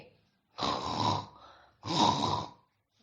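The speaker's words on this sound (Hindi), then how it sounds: "उसके खर्राटे गूंजने लगे।" Two long, deep snores, each a rough rumbling inhale, spaced a moment apart and heard close up in an otherwise quiet space.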